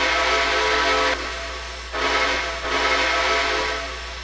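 The primary steam whistle of a New York Central Niagara steam locomotive in the Trainz railway game sounds in loud, close chime blasts, one long call, a brief dip, then another sustained blast over a hissing background.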